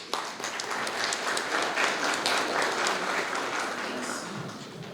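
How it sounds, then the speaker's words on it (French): Audience applause fills a hall at the official launch of a popular private business sector organisation, a steady wash of many hands clapping at moderate level for about five seconds, with no pause. "je vous demande d'applaudir, s'il vous plaît"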